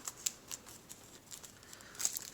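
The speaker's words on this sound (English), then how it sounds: "I'm going to just open it up with my scissors." Sharp, quiet snips of scissors cut open the plastic packaging of a diamond painting kit in a series of irregular close clicks with faint crinkling between them.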